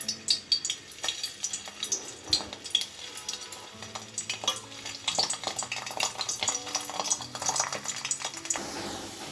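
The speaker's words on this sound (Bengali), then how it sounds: "এয়া মই গোটেইকেইটা বল ভাজি ললোঁ" Vegetable manchurian balls fry in hot oil in a kadai, giving a steady busy sizzle broken by frequent scraping stirs and light metal clinks of a spoon against the pan, with no talk.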